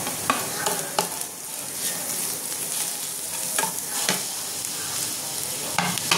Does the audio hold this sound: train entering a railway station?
no